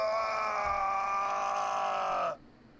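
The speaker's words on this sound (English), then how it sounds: "A man is screaming like crazy outside." A man outside screams long and loud in one sustained, strained groaning cry that holds steady for over two seconds and then cuts off abruptly into quiet.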